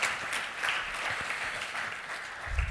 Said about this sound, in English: a huge round of applause to our internal fantastic team and Gina who actually put this together